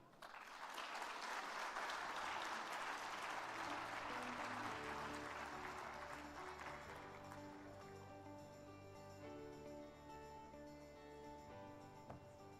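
A congress audience at an agroforestry opening session applauds after a speech, a full round of clapping that swells early then thins out, with music or tonal sound rising beneath as it fades.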